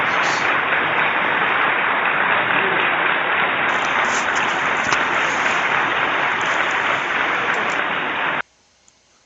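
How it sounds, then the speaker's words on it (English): Dense, loud applause from a crowd roars steadily and evenly for about eight seconds, then cuts off abruptly into near silence. "Applause, applause,"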